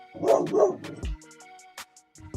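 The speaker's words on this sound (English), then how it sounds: "That was a real dog." A real dog barks a couple of times up close, followed by scattered softer yips and whimpers with quiet gaps between.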